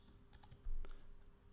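A few quick computer keyboard keystrokes for a shortcut sound close and quiet, with one slightly heavier press, over faint room hum.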